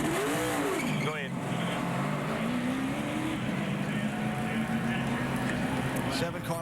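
NASCAR Nationwide stock cars racing at Talladega in the 2012 Aaron's 312, engines roaring loud and continuous with a rising and falling pitch sweep as a car passes, under steady crowd and commentary noise.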